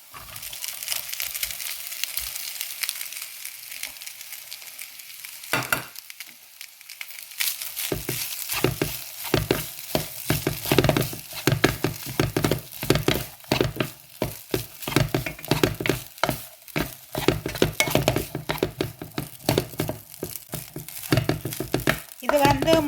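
Cooked rice tipped into a pan of fried tomato masala and stirred through, giving busy scraping, clattering and sizzling that build after a quiet start and continue steadily, close and fairly loud.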